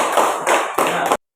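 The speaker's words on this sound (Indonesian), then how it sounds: "tepuk tangan untuk kelompok" A class of students applauds a student group after their presentation, steady dense clapping in three close bursts separated by brief dips, ending abruptly.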